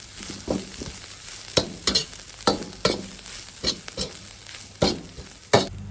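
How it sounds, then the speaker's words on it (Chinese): Homemade cabbage stir-fried in a wok, with a steady hiss of sizzling under repeated sharp scrapes and clatters of the spatula against the pan, close and moderately loud. "再把这个椰菜下锅炒"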